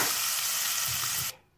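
A tadka of fenugreek, cumin, red chili and asafoetida, poured hot into kadhi, makes a loud, steady broadband sizzle that cuts off abruptly near the end, leaving quiet.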